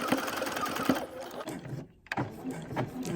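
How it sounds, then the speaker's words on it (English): A sewing machine stitches straight across a fabric scrunchie, a close, steady mechanical whir with rapid needle clatter that briefly stops and then resumes. "And now I'm just gonna sew all the way across from one end to the other."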